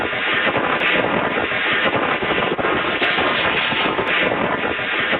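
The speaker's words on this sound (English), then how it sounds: "that's the sound of somebody who has a phone in their pocket who dialed you" Muffled pocket-dial voicemail from a phone in someone's pocket: a continuous dense rustling roar, band-limited and wind-like, loud and steady throughout with faint clicks and no clear talking.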